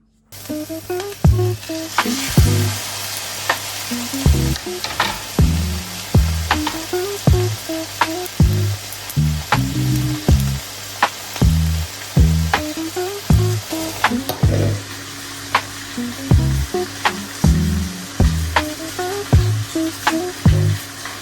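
A St. Eels egg frying in a pan, hissing and sizzling steadily up close, punctuated by repeated clicks and taps of a utensil against the pan in an uneven rhythm.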